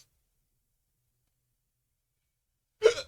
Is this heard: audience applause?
no